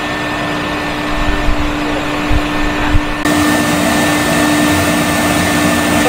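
A vacuum cleaner runs steadily while cleaning a fabric sofa, a loud, continuous motor whine with brief bumps of the nozzle against the cushions, rising slightly in pitch partway through, with no talking.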